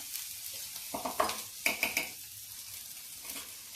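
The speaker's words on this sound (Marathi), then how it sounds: "आता हे परतून घ्यायचं व्यवस्थित" A green chili, ginger and cumin paste is sautéed in a pan for fasting-day khichdi, with a few quick scraping stir strokes over a faint, low sizzle and no talking.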